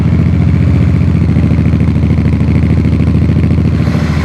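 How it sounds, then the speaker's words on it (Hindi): A Royal Enfield 650 motorcycle engine starts and runs at a steady idle, a loud, close, even rumble with rapid rhythmic pulsing throughout. "तो ये कुछ साउंड है जो बाइक स्टार्ट होने पे होता है।"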